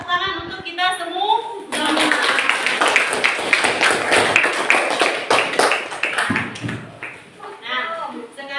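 Schoolchildren in a classroom clapping for a student group, a burst of dense, lively hand-clapping lasting several seconds that starts abruptly after a teacher's voice, with talking before and after.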